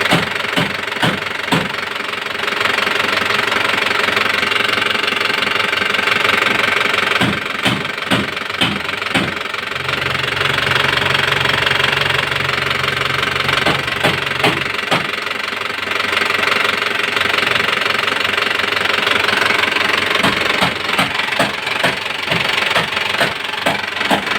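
A car engine idles while it warms up, giving a loud, steady close-up knocking rumble with rapid rhythmic ticks and a brief deeper drone midway; no talk is heard.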